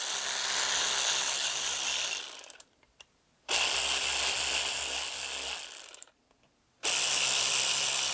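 A part being screwed onto a Honda CB250RS motorcycle brake caliper during a restoration, heard as close bursts of dense, raspy mechanical ratcheting broken by two short pauses, with no talking.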